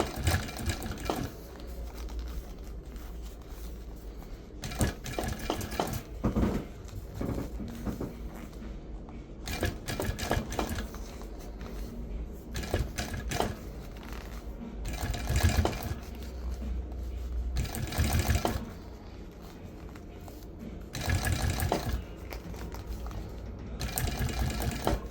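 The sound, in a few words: sewing machine stitching an upholstery boat seat cover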